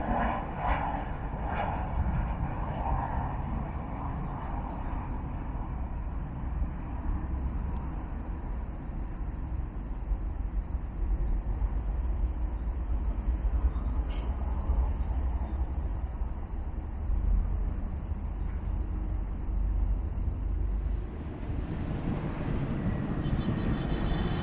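Freebird Airbus A320-200 airliner leased by Vietjet Air, its jet engines roaring steadily and loudly throughout with broadband rumble and some wind noise on the microphone.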